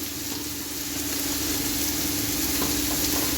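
Spring onion stalks fry in a pan for Thai-style fried rice, giving a steady, even sizzling hiss that fills the whole stretch without a pause and with no voices.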